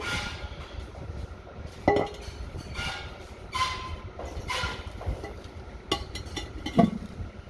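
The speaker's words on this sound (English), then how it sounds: "that sort of metallic-y industrial noise, that's some of the roof sheeting in that old shed. It's just flapping around in the wind" Loose metal roof sheeting on an old shed flaps and clanks in the wind, giving irregular metallic clinks and knocks at moderate distance over a steady windy background, with no talk.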